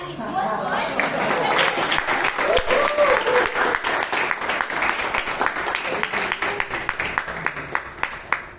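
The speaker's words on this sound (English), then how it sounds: "give a huge round of applause to Toastmaster Jose" A full round of clapping and applause from a Toastmasters meeting audience in Bangalore, honoring Toastmaster Jose; dense, steady clapping close by that swells and then tapers off gradually, with a voice speaking faintly underneath.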